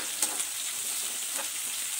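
Chana dal, mustard seeds, cumin and onions sizzle in hot oil for a Telugu tempering, a steady, soft frying hiss with faint stirring clicks and no talk.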